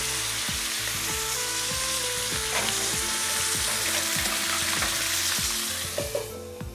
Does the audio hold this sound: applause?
no